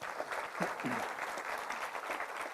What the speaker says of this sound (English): I'd like to just give a warm round of applause for Mary Ann, if we could.